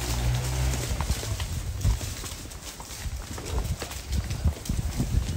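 Cows walk along a rural road, hooves clopping in an irregular rhythm at moderate distance over a steady background of outdoor noise.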